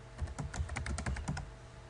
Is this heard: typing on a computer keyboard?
yes